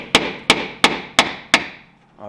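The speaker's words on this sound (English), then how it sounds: "using the hammer" Five sharp metallic hammer strikes on a punch at an even, steady pace while installing a rock light kit on a Toyota Tacoma, each ringing briefly, close and clear with no talking.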